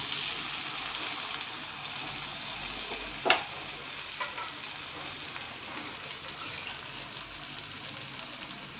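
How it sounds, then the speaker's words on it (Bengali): Coconut milk goes into a pan of frying Bengali prawn curry, leaving a soft steady sizzle with one sharp knock and a faint clink as it settles. "এবার আমি নারকেলের দুধ দিলাম"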